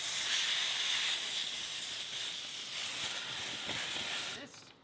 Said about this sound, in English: So the first thing I think I need to do is just hit them with an air hose.